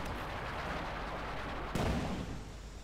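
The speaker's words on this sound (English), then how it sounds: "Looks like a smoke barrage here from the German mortar crew as well" Smoke barrage fired by a German mortar crew in the Company of Heroes 2 real-time strategy game, heard as a sudden low thump at the midpoint over a steady bed of distant battlefield rumble, with no speech.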